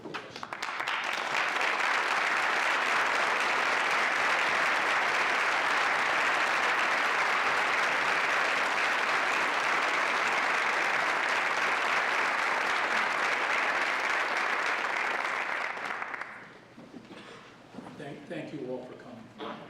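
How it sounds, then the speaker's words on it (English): Convocation audience applauding students' family members, a large crowd clapping loudly and continuously for about sixteen seconds before abruptly fading into quieter room noise and a voice. "I'd like them, if they're here, to stand up so we can acknowledge and give a round of applause."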